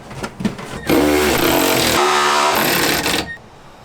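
Power tool running on nuts and bolts of a DECKED truck bed drawer system on a Jeep Gladiator, one loud sustained burst of about two seconds that cuts briefly and resumes, with quieter clatter before and after.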